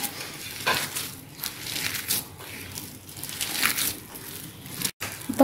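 Grated coconut being mixed by hand into a wheat flour and mashed banana batter, a close, soft squishing and crushing texture that rises and falls in rhythm, with a brief break near the end and no talking.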